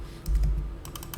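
Computer keyboard typing during a PHP coding lesson, a short burst of crisp key clicks, a few separate strikes and then a quick run near the end, with no talking.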